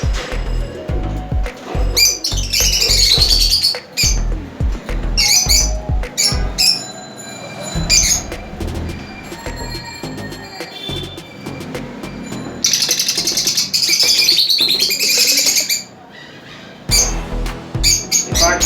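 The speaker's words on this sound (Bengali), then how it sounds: "রেড আই, সম্পূর্ণ রেড আই নন রিংয়ের আমার এই পাখিগুলো" A colony of nine-month-old red-eye lovebirds kept for breeding, shrieking and squawking loudly and close in repeated bursts, with shrill high calls piling over one another throughout.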